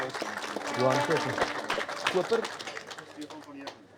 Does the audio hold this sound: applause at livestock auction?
yes